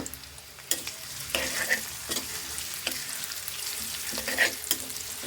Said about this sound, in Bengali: এটা লাল লাল করে ভাজবো